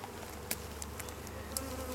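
Bees hum in a steady, close drone during a beehive inspection, with a few brief sharper buzzes as individual insects fly near; no talking.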